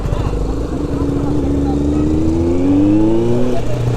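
A Kawasaki Z900 motorcycle revs hard to redline in first gear, the engine note climbing steadily and loud throughout, with a brief strong peak near the end.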